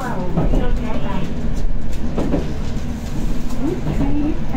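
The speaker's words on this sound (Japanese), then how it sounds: "この列車は普通列車の松本行きワンマン電車です。" A local one-man electric train on the Chuo Main Line bound for Matsumoto rumbles steadily along with continuous rolling noise and faint wheel squeals, while a recorded onboard announcement voice speaks over it.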